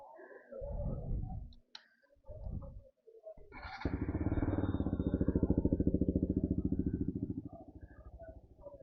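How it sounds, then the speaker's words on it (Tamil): A Royal Enfield RC 200 motorcycle fitted with an Akrapovic exhaust starts up: a few short cranking bursts and clicks, then the engine catches and idles with a loud, rapid, throbbing exhaust note before easing down. "அதனால் okay, let's start the engine."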